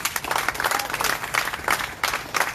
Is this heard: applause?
yes